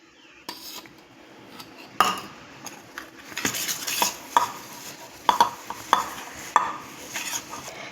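Rose petals, sugar candy powder and honey being stirred together for gulkand: close spoon clinks and scrapes against a bowl, sparse at first and then quickening into a busy mixing rhythm, with no talking.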